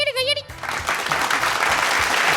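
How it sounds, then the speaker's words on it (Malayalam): Clapping from the audience at a ventriloquism show breaks out after a brief high voice, then swells into a sustained, dense burst of applause that stays loud to the end. "എന്നാ കയ്യടി കയ്യടി കയ്യടി കയ്യടി"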